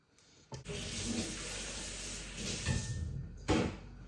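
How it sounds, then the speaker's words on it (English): Water streams steadily into a blender holding a cup of chickpeas and two medjool dates, a continuous pouring rush lasting several seconds with a couple of brief knocks, and no one speaking. "2 cups of water in there"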